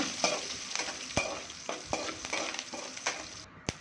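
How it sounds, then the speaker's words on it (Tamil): Chopped garlic and curry leaves sizzle steadily in a frying pan while a utensil stirs them, sharp scraping clicks recurring irregularly over the continuous hiss. "நல்லா வதக்கிக்கோங்க"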